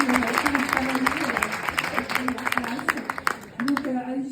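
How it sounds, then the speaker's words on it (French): Scattered audience clapping at a trade union meeting rattles on under a person speaking, uneven and moderately loud. "Vous pouvez applaudir."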